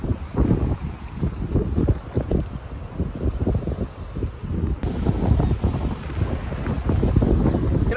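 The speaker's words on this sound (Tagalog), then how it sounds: "Lakas ng hampas ng hangin." Strong wind gusts across a white-sand beach, buffeting the microphone in heavy rumbling bursts that rise and fall throughout, with a faint wash of surf behind.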